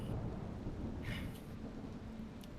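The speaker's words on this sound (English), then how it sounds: "you hear another crack of thunder as it crashes down and hits the starboard" Thunder crack sound effect played during a Ravenloft tabletop role-playing game, a steady low rumble filling the clip with a brighter crackle midway, loud and continuous with no talking.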